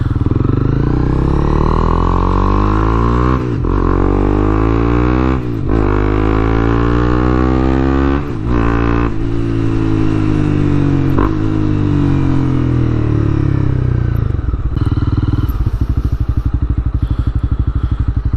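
A motorcycle engine revs loudly and continuously, its pitch rising and falling through several throttle bursts, with short clattering breaks between revs.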